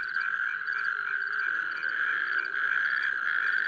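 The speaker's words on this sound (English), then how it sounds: "Males try to attract partners with loud, rattle-like calling." A toad, the smallest toad species in Poland, gives a loud, continuous rattle-like mating call in a forest at night, close and steady, with no voices.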